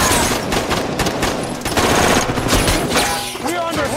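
Dense gunfire in an action film shootout between robbers and police, rapid automatic bursts and overlapping shots crackling loudly and continuously, with faint ringing metallic tones toward the end.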